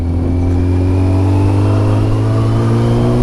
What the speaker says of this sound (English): Just put a new battery in the bike because the old one was starting to struggle to start the bike.